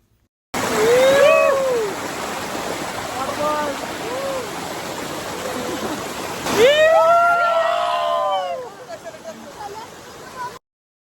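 A waterfall along a forest route near Maredumilli rushes in a steady broad roar, with whooping voices calling out over the water at moments.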